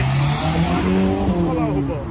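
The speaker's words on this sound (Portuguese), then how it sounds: "Tem bastante carro saindo aqui." Cars driving out at a highway exit, a loud continuous roar of passing engines with tire noise, while people talk over it.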